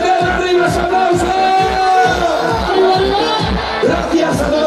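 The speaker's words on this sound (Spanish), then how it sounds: "¡Arriba ese aplauso!" A large festival crowd at a pig-roast fiesta in Cerceda applauds and cheers under loud band music, a steady rhythmic beat beneath a constant wash of voices and whoops.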